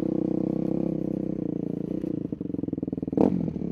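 A rebuilt Yamaha YZ250F dirt bike engine idles close by with a rapid, throbbing putter, dips slightly, then gives a quick sharp rev before settling back to idle.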